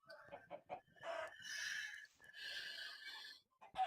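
Chickens in the Minecraft video game, a run of short clucks followed by longer drawn-out squawking calls, fairly faint and alone with no talking.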